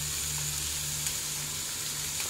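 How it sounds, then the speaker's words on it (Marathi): Onion sautés in a pan over low heat with cumin seeds, a soft, even sizzle holding steady across the short stretch, with no voices. "आता आपण घालूया कांदा आणि सोनेरी रंग येईपर्यंत छान परतून"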